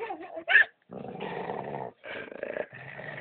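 A mixed-breed dog growls in low, rumbling bursts, with a short sharp yip near the start and brief pauses between the growls.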